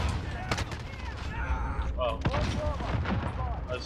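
Heavy gunfire and explosive blasts ring out in a shooter video game, including an RPG launch, with continuous crackling shots over a busy background.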